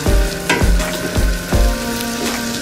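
Onions and spices fry loudly in a pan under a thick sizzle, with several heavy scraping strokes of a utensil stirring them every half second or so.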